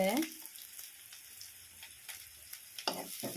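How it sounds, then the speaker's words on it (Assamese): Onion frying in a pan, a steady soft sizzle running under brief clinks near the start and end, close and moderately loud with no talking. "ভাজি লৈ পিঁয়াজটো জাষ্ট অকণমান ৰঙচুৱা হ'বলৈ দিব লাগিব"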